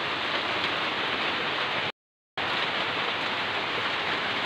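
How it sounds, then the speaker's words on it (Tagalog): Heavy rain pours down steadily and loudly at 3:35 in the afternoon, a dense unbroken roar that cuts out briefly near the middle before resuming at the same intensity. "Super ulan mga ka-moment."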